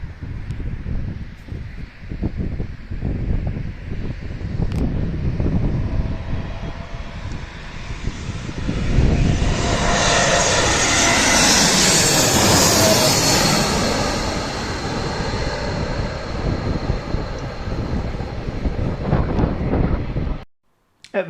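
A jet airplane roars past, its engine noise swelling to a loud peak mid-way and then fading, with steady wind-like rumble throughout.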